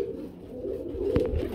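A single fancy pigeon, a saree-type bird, gives a short, low, soft coo nearby with a faint rising pulse near the end.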